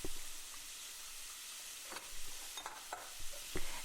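Ground beef being stirred into a soffritto sauce for a keto Bolognese, heard as faint, quiet scraping and shuffling strokes scattered over a low, soft background.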